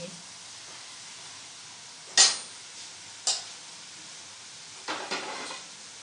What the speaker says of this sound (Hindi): फ्रेंच फ्राइज को हिलाते जाएं जब तक वो हाफ फ्राई ना हो जाए।